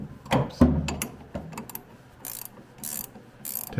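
Wrench ratchets in short clicking bursts while working on the front end of a 1982 air-cooled VW Vanagon Westfalia, close and crisp, with irregular pauses and metallic knocks between strokes.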